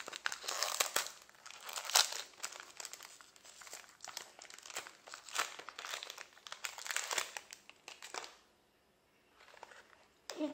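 A product package from a monthly beauty box, holding a 30 ml bottle, is opened with crinkling, tearing and rustling of packaging, close and continuous before a short lull.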